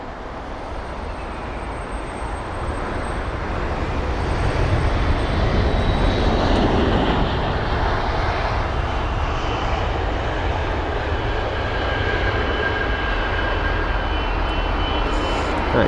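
An Aer Lingus A320neo airliner arriving at London Heathrow produces a steady, loud jet roar that swells and holds, broad and rushing, with no talk over it.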